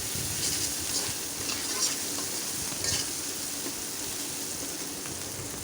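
Cumin paste and spices sautéing in a pan with a splash of water while cooking koi fish curry, giving a steady, close sizzling hiss with faint stirring scrapes throughout.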